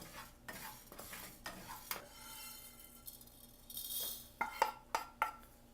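Spices being stirred and dry-roasted in a pan for chicken chops, with a spatula scraping and clinking against the metal over a soft sizzle, several sharper knocks near the end.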